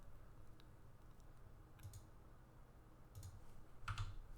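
A computer keyboard gives a few sparse, soft key clicks spaced over several seconds, close and quiet against low background hum.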